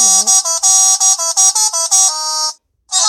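Phone-app telolet bus horn playing a loud, rapid rhythmic sequence of stacked horn tones, about a dozen quick pulses, then a held note, a short silence and a fresh blast at the end.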